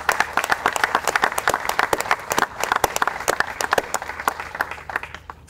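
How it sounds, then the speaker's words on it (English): An audience gives a round of applause for a photographer, many hands clapping in a loud, lively patter that holds strong and then thins slightly toward the end. "Please acknowledge him with a round of applause"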